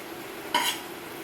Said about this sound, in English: give it a good mix round